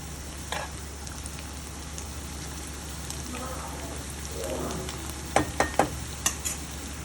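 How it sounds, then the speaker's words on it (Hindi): Food fries in a pan on a home stove, sizzling steadily at moderate volume, with soft stirring in the middle and a handful of sharp utensil clicks toward the end. "ये फ्राई हो रहे हैं अब।"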